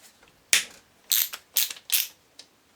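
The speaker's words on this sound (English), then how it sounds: "Now you want to be undoing these two bolts here first." Close-up bursts of a ratchet undoing the 6 mm bolts on the brush box of a starter motor that fits a Jaguar X-type, Transit or Mondeo: four or five short, bright, rasping clicking runs split by quiet gaps, with no speech.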